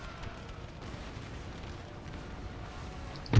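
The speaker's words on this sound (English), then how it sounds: "Watch the artillery." Distant artillery from a Napoleon Total War battle rumbles low and steady, then ends in a sudden, loud, close cannon boom.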